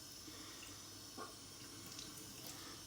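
Water runs steadily from a sink faucet during a blindfolded straight-razor shave, a continuous close hiss with no voices.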